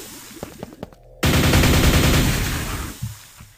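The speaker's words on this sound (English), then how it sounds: "This is a grade A nail gun." An ETF rifle, a nail gun in Quake 2, opens with a few scattered clicks, then rattles out a loud, dense, sustained stream of rapid shots for about two seconds before cutting off.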